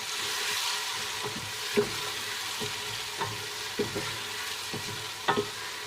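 Tamarind pulp being stirred into a sizzling chicken zarda biryani mixture, a soft steady frying hiss with intermittent light taps and scrapes of the spoon on the pot, close and free of talk.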